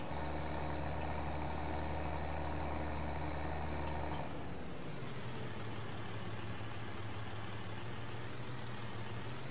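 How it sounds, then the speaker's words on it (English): A tractor engine in Farming Simulator 22 drones steadily at a low pitch, then shifts to a lower, rougher idle as the machine changes movement, a continuous quiet mechanical hum with no talking. "We're gonna move the tractor."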